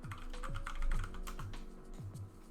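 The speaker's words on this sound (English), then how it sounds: "I was typing that." Rapid keystrokes on a computer keyboard clatter steadily and up close, a dense run of clicks with a low hum underneath.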